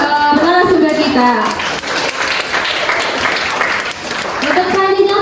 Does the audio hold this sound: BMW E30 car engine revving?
no